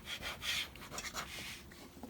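A paper score mark on a card folio spine is burnished with quiet, close rubbing strokes. The soft scraping swishes come in short, uneven passes and stay faint, with no voices.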